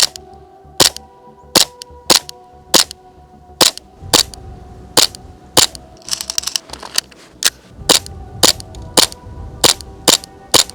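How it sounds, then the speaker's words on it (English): A gun fires rapidly in a string of loud, sharp, close cracks roughly every half second, with a brief burst of quicker clicking in the middle. "You can shoot pretty fast with this."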